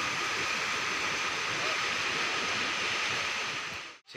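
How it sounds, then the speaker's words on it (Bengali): The Teesta river in flood roars downstream of Sikkim, a loud, continuous wall of rushing water with no break in its churning rumble until a brief dropout near the end. "জলের প্রচণ্ড আওয়াজ।"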